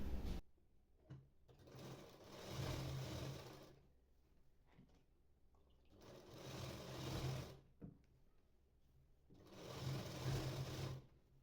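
A sewing machine runs a double line of stitching on a blouse sleeve. Three quiet whirring bursts of a few seconds each are separated by short pauses and soft handling clicks.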